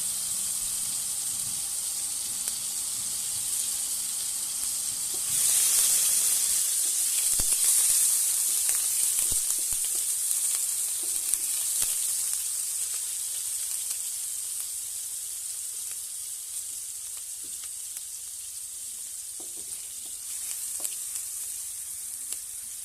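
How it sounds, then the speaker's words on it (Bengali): Onion paste sizzling in hot oil with five-spice seeds, a loud bright hiss that swells after a few seconds and then settles into a steady close sizzle, with no voices. "দিয়ে দিচ্ছি 5 ফোড়ন। এবার দিয়ে দিলাম পেঁয়াজ বাটা।"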